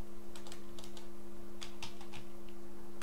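Quick keystrokes on a computer keyboard tap out a command in two short bursts of clicks, close but soft over a steady electrical hum.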